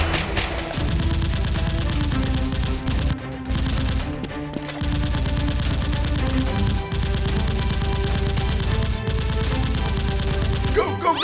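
Rapid bursts of gunfire sound effects in a Nerf gun fight, loud and nearly continuous with repeated automatic volleys, brief pauses and a few sharp breaks.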